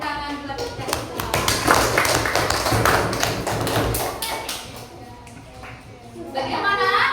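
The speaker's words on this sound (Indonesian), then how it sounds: "Tepuk tangan buat kita semua." A third-grade classroom of children claps in a sharp, uneven burst of hand taps that thins out midway, then swells again near the end, with voices mixed in.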